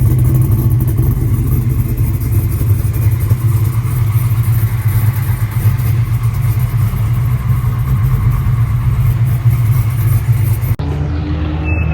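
A loud, steady engine drone from a race car on an autocross track at Atlanta Motorsports Park, holding a constant roar nearby before cutting off abruptly near the end.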